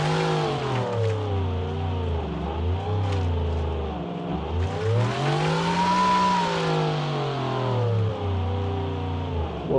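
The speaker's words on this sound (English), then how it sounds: "listen to the turbos" A 1985 rally car in a video game revs its turbo engine continuously, its pitch rising and falling through gear shifts, loud and close with no pauses.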